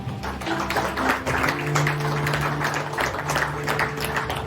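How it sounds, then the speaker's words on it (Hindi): Applause from a church congregation during a Sunday sermon, a dense clapping wash with a sustained tonal hum and faint voices underneath, fairly loud and continuous throughout. "इसके लिए जोरदार तालियां"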